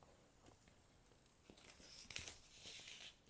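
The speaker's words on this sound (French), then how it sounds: "ce que l'on va faire, c'est déballer les cadres et mettre les affiches sous cadre" Picture frames being unwrapped from their packaging, with soft crinkling and tearing of wrap that grows louder and busier in the second half, close by and quiet, with no talk.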